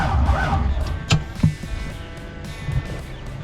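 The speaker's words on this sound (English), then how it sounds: "She's turning over on the key" A 1987 Toyota FJ60 Land Cruiser that sat for 20 years has its engine cranked on the key. Nearby mechanical whirring comes with a few sharp clunks and clicks, and no steady running engine follows.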